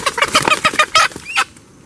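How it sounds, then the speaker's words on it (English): Chickens cluck in a vegetable garden near a bean patch, a quick run of close, loud clucks and squawks ending abruptly, with no talk. "the bean area seems to be a runway for the chickens"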